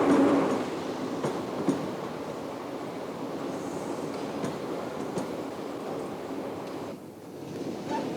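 A train running on rails near Edinburgh Waverley on lines toward the Scottish Highlands, a sustained rumbling roll with occasional sharp clicks of wheels over joints, dipping briefly near the end.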